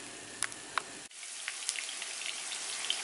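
Vegan vegetable kebab mixture sizzles in rings in a frying pan, a soft steady crackle with scattered pops, briefly interrupted then resuming quietly.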